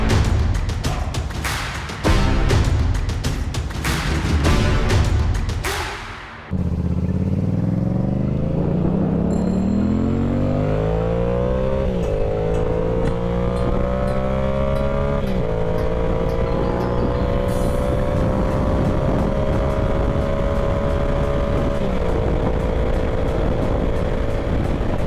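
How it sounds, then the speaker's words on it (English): Midday rush hour road traffic on a Florida holiday ride, heard from a motorcycle: loud engine and wind noise with rising revs through gear changes and other vehicles passing close by. "We got some rush hour traffic here"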